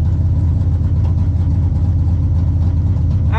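A neighbouring race car idles loudly at the start line of a drag racing event, a deep steady engine rumble heard from inside another car, continuous and close.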